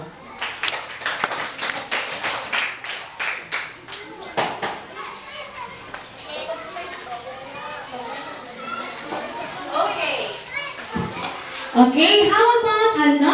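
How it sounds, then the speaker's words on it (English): Scattered clapping from a class at a school debate rises and fades in uneven bursts, mixed with children's chatter and a voice speaking near the end. "how about another round of applause to our speakers here in front?"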